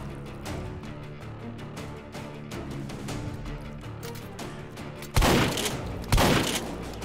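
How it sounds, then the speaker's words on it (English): Shotgun fire in the VR shooter Hot Dogs, Horseshoes & Hand Grenades: a rapid run of sharp game gunshots over busy action sounds, then two much louder, heavier blasts about a second apart near the end. "Oh, I love the shotgun."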